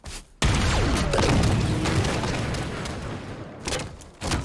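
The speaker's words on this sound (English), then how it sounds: "those are the same projectiles as the splinter grenade, as they're called now" In Halo 5, splinter grenade projectiles burst with a sudden heavy boom, followed by a long crackling, rumbling decay and a few smaller thumps near the end.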